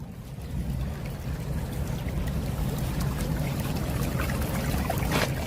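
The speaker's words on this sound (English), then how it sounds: "That water's flowing right through the stone, right into the French drain" Rainwater from a flash flood pours through drainage stone into an open French drain, a steady close rushing and trickling wash that holds constant throughout, with no voices.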